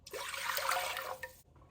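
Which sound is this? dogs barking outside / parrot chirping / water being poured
water being poured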